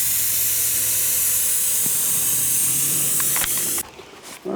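Spray gun painting the front end of a Camaro in a garage, a loud continuous hiss that cuts off abruptly near the end.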